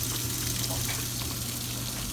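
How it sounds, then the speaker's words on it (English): Water runs from a tap into a laundry detergent cup to dilute the detergent, a steady, close gushing hiss with a low hum underneath, continuous throughout and without talk. "So I add a little bit of water, again diluting it"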